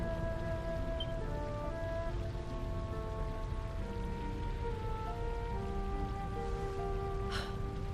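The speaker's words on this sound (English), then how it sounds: "Rain falls." Rain falling in the Dragon Quest XI video game, a soft, steady patter under sustained musical tones, with a brief brighter splash near the end.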